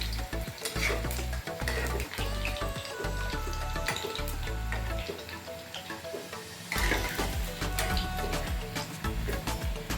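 Alu vadi frying in a pan and flipped to the second side, a loud continuous sizzle and crackle with a brief dip in the middle before the frying noise swells again.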